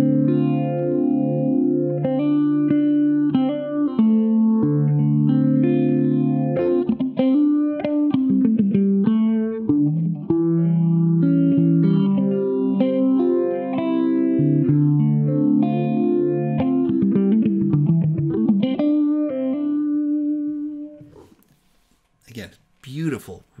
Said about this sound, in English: rich sounding phaser effect